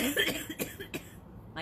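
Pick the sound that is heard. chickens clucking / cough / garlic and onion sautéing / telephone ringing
cough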